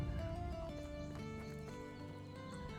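A horse ridden across the map in the medieval village-building game Medieval Dynasty, quiet hoofbeat clip-clop under a soft musical background, with no talking.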